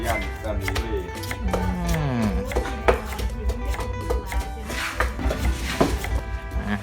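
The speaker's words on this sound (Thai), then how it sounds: "หั่นหั่นตะไคร้เนาะ" A knife chops lemongrass on a cutting board in a rapid, steady series of close, crisp strikes while someone speaks in Thai over it.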